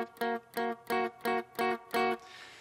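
Six short, evenly spaced muted guitar notes, the dotted-eighth part played dry without delay, each clipped off by fretting-hand muting, close and clear.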